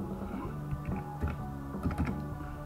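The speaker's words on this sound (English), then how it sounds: "I'm just gonna type and roll." Typing on a computer keyboard, a quick close run of light key clicks in irregular bursts, with no talk.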